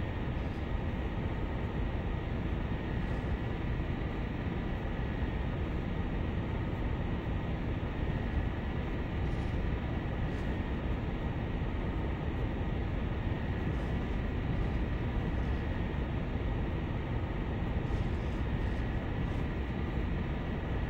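A Class 47 diesel locomotive in Train Sim World on the West Somerset Railway pulls away from a stand, its engine a steady, loud, continuous rumble and drone that holds throughout with no voices over it.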